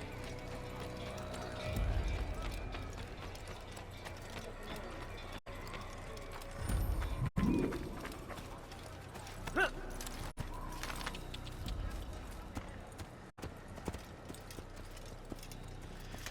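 A horse in Assassin's Creed clip-clops along with steady, fairly faint hoofbeats, accompanied by quiet mechanical clinks and low game ambience.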